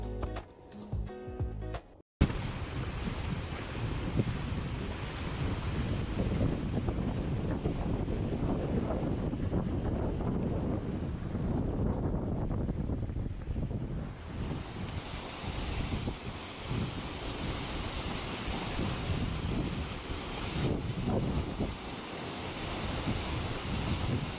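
Steady wind buffets the microphone over rolling surf and open water, a continuous roar with no voices after a brief opening knock.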